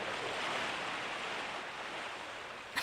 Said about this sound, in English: The only thing I can hear is the sound of the waves.